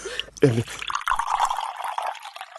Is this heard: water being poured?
yes